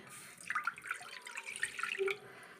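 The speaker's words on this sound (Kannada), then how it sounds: "ಇವಾಗ ನಾನು ಒಂದು ಲೋಟದಷ್ಟು ನೀರನ್ನು ಹಾಕೋತೀನಿ" Water from a glass pours into a heating pan (bannale) in a home kitchen, a soft, close splashing trickle lasting a couple of seconds, fairly quiet and alone.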